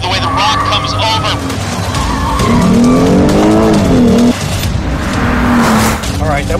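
Lexus IS 350 F Sport launching hard and cornering on a course, its engine note rising and falling steadily while tires squeal through the bends, loud and close, with a driver talking over it.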